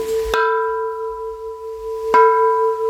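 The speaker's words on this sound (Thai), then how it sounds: "เอาเคาะระฆังให้ดังๆกันด้วย" A bell struck twice with a striker, each hit ringing out with a clear metallic tone that lingers and slowly fades, close and loud.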